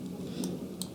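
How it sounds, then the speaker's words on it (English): A computer mouse right-click during desktop work: two quick, light clicks close together, near and crisp over a soft background hum. "let me just right click here"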